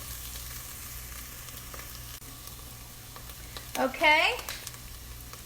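Garlic with softened celery and onions sizzling in a pot for oyster stew, a steady close frying hiss throughout, with a short spoken word near the end.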